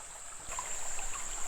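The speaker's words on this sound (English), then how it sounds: "We found some shut-ins here on Indian Creek where the river has eroded down to bedrock" Creek water runs through smooth bedrock shut-in channels on Indian Creek in the Ozarks, giving a steady soft flow and trickle, moderately near, with no voices.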